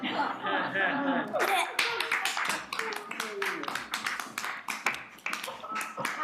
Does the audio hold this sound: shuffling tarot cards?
no